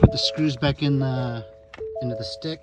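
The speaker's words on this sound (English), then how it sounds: "push back in drive so it's not making that dinging noise" A Ford F-150's steady two-tone electronic chime sounds repeatedly while someone talks over it nearby.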